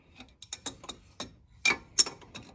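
Breaker bar and adjustable wrench loosening a coilover bolt on a 2015 Mazda 6 Sport, producing scattered metallic clicks and ratcheting ticks, close and quiet, with a sharper clank near the end.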